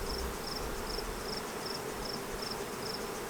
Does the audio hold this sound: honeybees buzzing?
yes